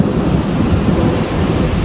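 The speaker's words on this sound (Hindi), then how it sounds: "देखिए कितने जोरों की बारिश हो रही है" Heavy rain pours down steadily and loudly outdoors, a dense broadband roar with low rumbling that may hold thunder, continuous and close throughout with no talking.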